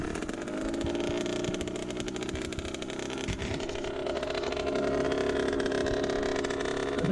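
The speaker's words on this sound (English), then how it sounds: "So right here I'm getting the bike started again for him." A manual-clutch dirt bike engine runs steadily after starting, a constant buzzing drone with slight pitch wavering, moderately close and continuous throughout with no talking.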